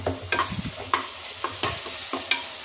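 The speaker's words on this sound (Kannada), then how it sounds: "ಎಣ್ಣೆನಲ್ಲೇ ಫ್ರೈ ಮಾಡ್ಕೋಬೇಕು, ಟೇಸ್ಟ್ ಬರುತ್ತೆ ಇದು ಗಮ್ ಅಂತ" A paste of ground red Byadgi and Guntur chillies, ginger and garlic fries in oil, a soft constant sizzle broken by sharp scraping stirs at irregular intervals, close and alone.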